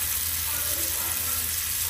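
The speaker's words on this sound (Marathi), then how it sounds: "हे बघा आता मी करते कोळंबी फ्राय." Shrimp fry in a hot pan with a steady, dense sizzle that runs unbroken, close and fairly loud.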